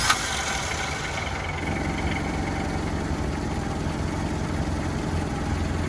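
A 1991 Toyota Hilux YN80 one-ton pickup with a warm 1.8L 2Y engine cranks briefly and catches, then settles into a steady, close, low rumbling idle with no talk over it.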